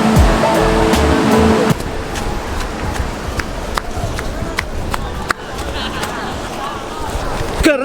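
Ocean surf washing steadily onto a beach in Gunung Kidul, a broad continuous roar of waves close by, with faint voices now and then underneath.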